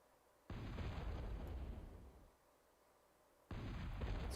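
Artillery shells landing on metal extractors in a strategy video game: two heavy explosive booms, each with a rumbling tail, the second arriving about three seconds after the first.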